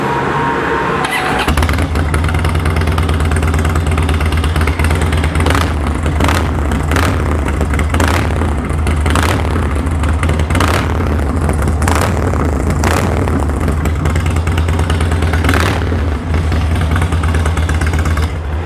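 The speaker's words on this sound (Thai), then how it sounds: "เดี๋ยวเรามาลองฟังเสียงเครื่องยนต์กันดูดีกว่านะครับ" A 2006 Harley-Davidson Dyna Super Glide 35th Anniversary limited edition with aftermarket pipes starts up, then idles loud and close with a deep steady rumble, broken by repeated sharp throttle blips and revs.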